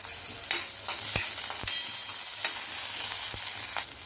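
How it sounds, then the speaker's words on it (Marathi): Garlic cloves and green chillies fry in hot oil with a close, steady sizzle, broken by several sharp scraping clicks as the pan is stirred. "मिरच्या अर्धवट भाजलेल्या आहेत आता लसूण पाकळ्या टाकूया"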